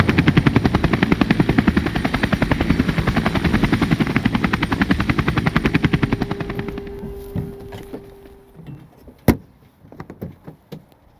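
A helicopter flies over the route of an old railway line, a loud, steady rapid chop of rotor blades that fades out after about seven seconds, leaving scattered faint knocks and one sharp click.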